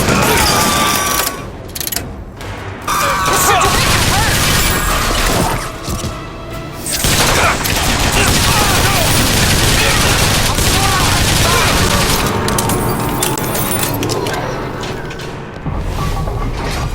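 Dense bursts of rapid gunfire in BioShock Infinite, loud and nearly continuous, with brief gaps and mechanical clatter between volleys.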